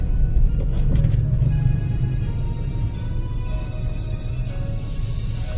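A car engine idling low and steady as the driver shifts into first gear during a driving lesson, with a continuous rumble and no revving, while soft music plays faintly in the background.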